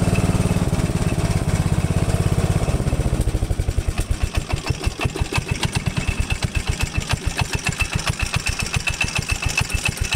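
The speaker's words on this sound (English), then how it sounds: "It idles and runs." A Dixon riding lawn mower's engine idles close and loud, starting with a low rumble and settling into a steady, rapid putter that holds to the end, with no talking.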